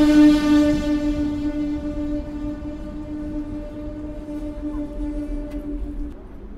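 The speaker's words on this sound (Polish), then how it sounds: "Pociąg piętrowy typu push-pull." Double-decker push-pull passenger train passing through Warsaw Powiśle station, with a loud sustained horn tone at the start fading into a steady rolling rumble of wagons going by.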